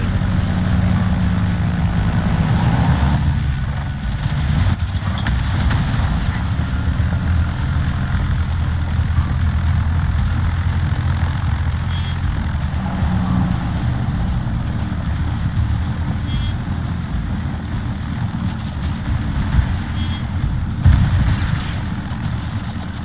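Aircraft engines of carrier planes in a naval warfare video game drone in a loud, continuous, low rumble that holds steady with small swells, no voices over it.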